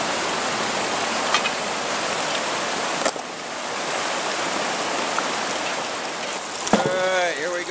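Water rushes steadily through a homemade cleanup sluice lined with Dream Mat, a continuous close hiss and gurgle with a faint voice briefly near the end.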